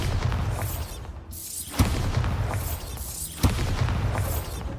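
Bombarda spell blasts in Hogwarts Legacy, three booming explosions spaced about every second and a half, each a sharp crack followed by a rumbling roll.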